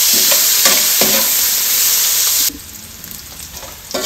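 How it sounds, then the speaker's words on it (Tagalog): Garlic, red onion and ginger sauté in a hot pan while a utensil stirs with loud scraping strokes over a strong sizzle, which then drops to a softer hiss. "gisadong-gisado ang bawang sibuyas at luya"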